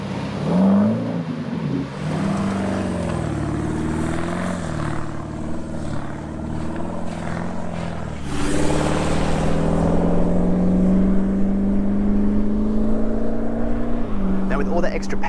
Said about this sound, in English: I fitted a Manta aluminized steel twin 3-inch into single 4-inch exhaust system containing high flow cats and a center single muffler.